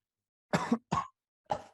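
A man who is sick with a cough coughs three quick dry times in a quiet meeting room, faint and short, with a slight throat-clear at the end.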